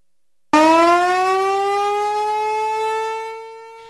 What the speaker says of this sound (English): The huge sirens atop poles dotted all over southeastern Wisconsin may shout out a warning this weekend.